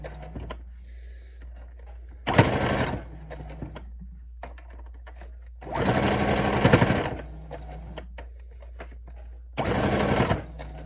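A sewing machine tacks down a pleated cloth face mask with ties in three separate loud bursts of rapid stitching, with quiet pauses in between.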